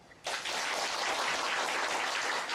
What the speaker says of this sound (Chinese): 来先鼓掌一下。